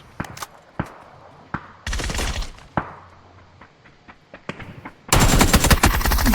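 Gunfire in the video game PUBG: sharp single shots and short bursts ring out at varying distances, ending in a loud, sustained close-range automatic volley, with no talk.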